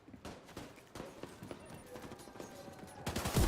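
Gunfire in a shooter video game landing a headshot: a handful of sharp, separate shots crack over a low game background, fairly quiet overall, with a heavier burst near the end.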